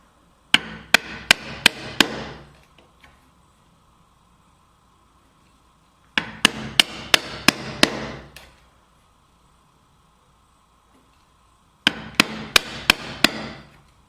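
A hammer drives a chisel to cut a groove in a wood block, in three bursts of five or six sharp, loud strikes each, separated by quiet pauses.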